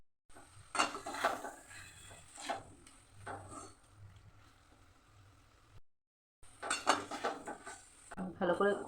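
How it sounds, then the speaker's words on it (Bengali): Fried bitter gourd pieces tipped into a pan with fried potato for a Bengali korola aloo kalia, giving a few clattering scrapes of spatula on metal in bursts, with a short silent gap before more stirring clatter. "এবার ভেজে রাখা করলাটা দিয়ে দেবো।"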